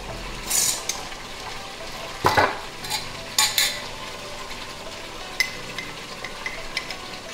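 Ground cumin and coriander are stirred and sautéed in a pan with a spoon, giving intermittent scraping strokes and light metallic clinks over a soft, low sizzle, close and moderately loud.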